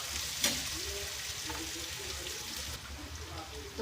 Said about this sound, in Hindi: इसको थोड़ा सा भून लेते हैं प्याज को ना